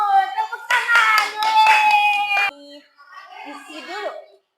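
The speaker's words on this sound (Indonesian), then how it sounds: "Tepuk tangan." Classroom applause: a group of children claps together in a burst lasting a couple of seconds, with children's voices mixed in, then quieter chatter follows.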